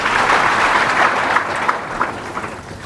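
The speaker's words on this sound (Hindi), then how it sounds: "तालियां तो बजा देते हो" A devotional gathering's audience breaks into applause, a dense, loud burst of clapping that gradually thins out over a few seconds.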